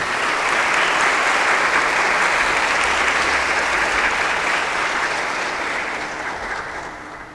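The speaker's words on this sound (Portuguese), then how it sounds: "Recebam com uma salva de palmas, por favor, nosso padre" Sustained applause from a church audience welcoming a parish priest, a dense, steady wash of many hands clapping that fades slightly toward the end.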